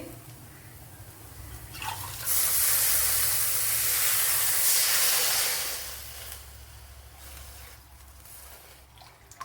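A glass of water splashes into a hot pan of well-roasted ingredients and erupts into a loud, rushing steam hiss that lasts several seconds, then fades to a quieter simmer.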